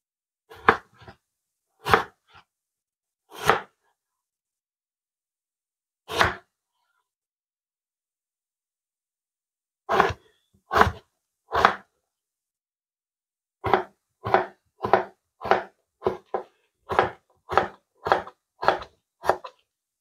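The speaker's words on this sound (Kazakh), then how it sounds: "Енді картоптарымызды турап аламыз." A knife chops potatoes on a board for a savoury pie filling, sharp close thuds coming singly and in pairs at first, then after a pause in a quick steady run of cuts, with no talk.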